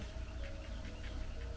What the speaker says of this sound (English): I can hear the birds outside.